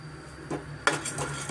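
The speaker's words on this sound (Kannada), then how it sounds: "ಚೆನ್ನಾಗಿ ಗೋಲ್ಡನ್ ಕಲರ್ ಬರೋವರೆಗೂ ಸ್ವಲ್ಪ ನಾವು ಫ್ರೈ ಮಾಡ್ಕೋಬೇಕು" Watermelon seeds dry roasting in a pan without oil, brief clinks and a scraping rattle of utensil against the metal pan, close and moderately quiet, with no speech.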